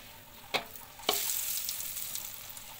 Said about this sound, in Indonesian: Kemudian masukkan terasi dan goreng bersama kemiri